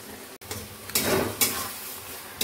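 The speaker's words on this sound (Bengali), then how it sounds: "ঘুগনিটা কষানো চলছে, সামান্য পরিমাণে জল দিয়েছি, ভালো করে এখন কষিয়ে নিই" Ghugni stir-frying with tomato and a little water in a pan: a steady sizzle runs throughout, broken by a few scraping stirs and utensil knocks against the pan.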